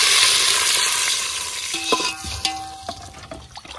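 Water is poured into a pot for mushroom biryani rice, heard as a loud hissing rush that fades after a few seconds into scattered clinks and knocks of cookware nearby, with no talk.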